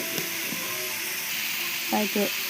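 Onion, carrot and tomato sauté in oil with a pinch of salt, giving a steady, close sizzling hiss with light stirring scrapes, and a voice speaks briefly near the end.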